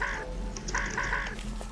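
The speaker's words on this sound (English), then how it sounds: "Oh, it's a crow." A bird caws and clucks in a game, Mario the Music Box, a few short calls in a row, close and clear over a low hum.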